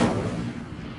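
Casting the Incendio fire spell in Hogwarts Legacy gives a short, punchy burst of flame with a low thump, loudest at the onset and then fading into a crackling rumble.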